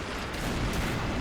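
Dense gunfire and artillery from the World War II strategy game Sudden Strike 2 form a loud, continuous rumbling barrage with no clear gaps.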